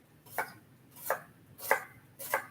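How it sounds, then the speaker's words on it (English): Knife dicing cucumbers small on a cutting board for a shrimp roll salad: four crisp, evenly spaced chops, close and clear, with no talking. "And I like my cucumbers diced really small when I am making it for a salad."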